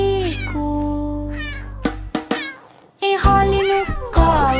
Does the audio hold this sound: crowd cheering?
no